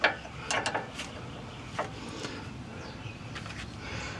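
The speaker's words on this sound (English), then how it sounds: "rotate our ratchet the other way and go back tight with our bolts here" A ratchet wrench clicks in short bursts as it tightens bolts during a Jeep sway bar and Dana 60 rear differential skid install, with a few close, sharp clusters of clicks separated by quiet pauses.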